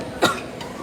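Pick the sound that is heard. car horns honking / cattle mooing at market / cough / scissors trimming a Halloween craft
cough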